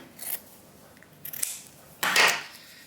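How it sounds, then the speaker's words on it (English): Scissors snipping through the toe of a sock, three short separate cuts, the last one longer and louder, close and quiet with no voices. "I'm going to snip off the toe"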